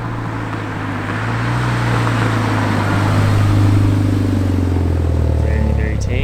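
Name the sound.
VW Golf MK6 GTI driving quietly, tire noise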